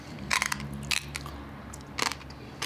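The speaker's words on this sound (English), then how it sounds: "Once he's crunched the glass into tiny pieces" A man chews real light bulb glass in his mouth, producing a few sharp, gritty crunches in short separate bursts, close and distinct, with no talk.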